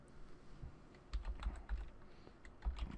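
A computer keyboard is typed on softly, with a few quiet keystrokes clustered close together over a low background hum.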